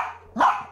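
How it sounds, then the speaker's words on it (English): A Lhasa Apso gives a single sharp, close bark, short and loud, with no other sound around it. "The only thing they're able to do is to bark,"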